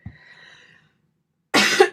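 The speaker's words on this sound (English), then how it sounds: "Pardon my cough." A person coughs once sharply near the mic, then a faint hum follows, silence, and a second louder cough burst at the end.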